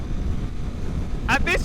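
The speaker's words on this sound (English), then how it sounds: "that wind! My helmet is shaking." Wind roars and buffets against a motorcycle helmet at highway speed on a Honda CBR300R, a broad continuous rush with two short bursts of voice near the end.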